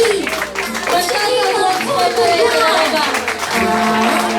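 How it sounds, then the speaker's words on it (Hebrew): Applause and cheering from a crowd of children and parents for the cast of a children's theatre show, continuous clapping mixed with crowd chatter and a voice talking over it. "מחיאות כפיים לצביקה בוזגלו, צביקה הבלש"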